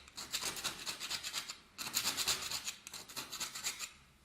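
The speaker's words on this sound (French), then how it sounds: "Ce qu'il faut faire, c'est gratter tout le mur comme ça là." Scraping a wall that has been soaked by water damage several times, a rough rasping scrape repeated in quick strokes, steady for about a second and a half, then two more bursts after brief pauses, close and moderately loud.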